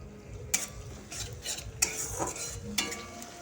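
Spice paste with green peas being stirred and cooked down in a pan, the spoon scraping in three sharp strokes roughly a second apart over a soft, steady sizzle, close and fairly quiet.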